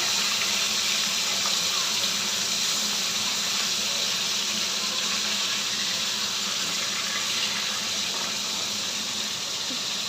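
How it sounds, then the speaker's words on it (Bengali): Fish sizzles in hot oil in a frying pan, a loud continuous hiss and crackle that stays steady throughout without pause. "মাছগুলো ভালো করে লাল করে ভেজে নিই।"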